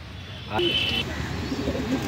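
A female Madrasi pigeon of an old generation coos in a low, soft murmur close by, heard against steady background noise with a brief higher tone partway through.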